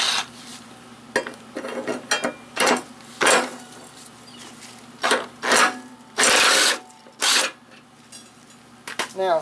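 A wrench ratcheting and clanking against a lawn mower blade nut of 9/16 size, in short separate bursts of metallic scraping and clicks with pauses between them, close and fairly quiet.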